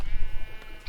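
A sheep bleats on a sheep farm in Minecraft, a loud wavering bleat filling most of the short span with a faint trailing tail.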